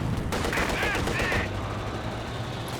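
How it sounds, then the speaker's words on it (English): Machine gun fire in the real-time strategy game Company of Heroes 2, a dense rattling burst amid other battle noise, moderately loud and continuous over a few seconds. "MG has been camped there pretty much the entire time."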